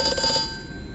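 In the horror game Amnesia: A Machine for Pigs, a telephone gives a single sustained metallic ring that fades out within a second over a dim background hum.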